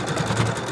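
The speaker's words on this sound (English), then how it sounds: "carefully put it back into the sewing machine." A sewing machine stitches down the pleats of a cloth face mask, its motor and needle making a brief, steady whirring rattle close up.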